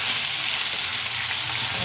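Milkfish (bangus) fries in hot oil in a pan, giving a loud, unbroken sizzle and spatter close up that fills the whole moment.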